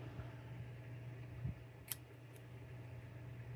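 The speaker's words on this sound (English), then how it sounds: "And then I'm cutting, and then I'll cut the fishtail here" Scissors snip a fishtail end into a strip of paper for a paper craft box, two or three soft, close cuts over a faint steady hum, no talking.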